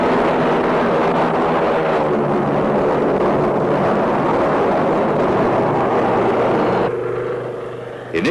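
A World War I training biplane flying, its engine droning steadily and loudly for several seconds before fading slightly at the end, with no talking.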